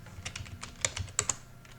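Fast typing on a computer keyboard while writing a Python program, a quick irregular run of light, close key clicks with no voices.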